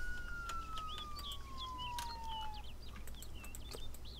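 A police car siren in the video game ArmA glides slowly downward, faint and distant, with chirping bird-like calls scattered around it and no talking.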